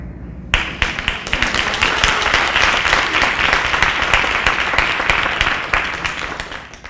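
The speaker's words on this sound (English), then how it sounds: "give Elizabeth Nelson another round of applause, please" Audience applause at a city MLK oratorical contest, a sudden burst of dense clapping that swells and stays loud and steady for several seconds in a hall.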